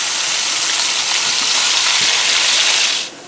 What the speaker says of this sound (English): I'm going to brown up 2 pounds of hamburger in the grease